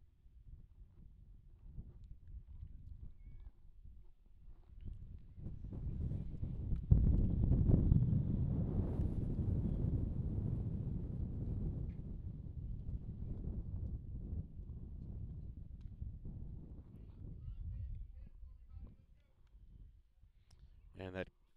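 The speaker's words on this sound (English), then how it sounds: "It's about a 285 mile an hour gust of wind came through." Strong gust of wind buffeting the microphone at an outdoor high school varsity baseball game: a low, rumbling roar swells in after a few seconds, stays loud and ragged, then fades away near the end.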